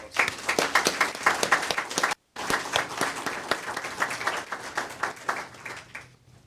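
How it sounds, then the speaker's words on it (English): A crowd applauds steadily for several seconds at a fire department awards ceremony, dense clapping that breaks off briefly and then resumes before fading out. "Let's give Drew Shiflett a round of applause"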